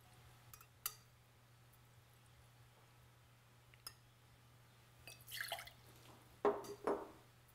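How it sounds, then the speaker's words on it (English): One ounce of lemon juice poured into a jigger for a Violet Fizz cocktail, a few faint drips and glass clinks followed by a short trickling pour, close and quiet over a low hum. "We're going to start off with 1 ounce of lemon juice."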